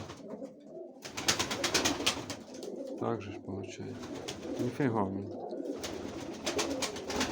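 Pigeons cooing close by in a pigeon coop, with a couple of soft rolling coos in the middle while people talk over and around them.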